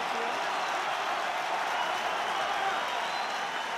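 Large rugby crowd at an Ulster versus Saracens Heineken Cup quarter-final roaring in support of Ulster, a dense, steady wall of cheering and noise from the stands that holds level for the whole moment.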